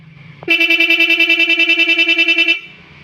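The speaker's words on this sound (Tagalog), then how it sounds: "yan yung magiging sounds niya pag may interrupter relay." A loud, continuous car horn wired through an interrupter relay blares for about two seconds with a rapid pulsing flutter, then cuts off abruptly.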